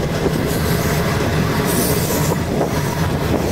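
A CN freight train rolls past on the railway at close range, a loud continuous rumble of wheels and cars with faint squealing and clicking over the rails, no voices.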